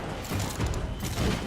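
Rapid gunfire from the video game Destiny, a dense continuous burst of shots with low booming thumps pulsing through the whole stretch, loud and close with no talk over it.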